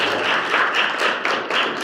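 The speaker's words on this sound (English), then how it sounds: "so why don't we give them a round of applause" A small audience at a law students' panel on judicial activism claps for visiting judges, a short burst of close, uneven hand claps.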